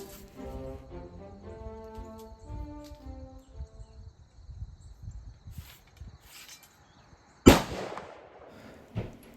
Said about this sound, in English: you'll have to put up with a few gunshots in the background